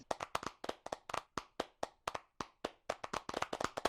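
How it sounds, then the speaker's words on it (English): A few people clapping after a presentation at a virtual-reality conference session, quiet and sparse, with individual hand claps clearly separated rather than a full crowd roar. "We can applaud."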